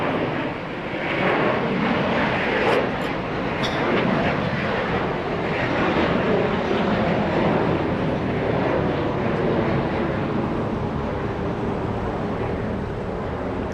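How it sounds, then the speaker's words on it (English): An American Airlines jet takes off from runway 25 Right at LAX with a broad, steady engine roar that swells and holds at a distance for about fourteen seconds. "let's go to the American Airlines leaving right now in the south on 25 right"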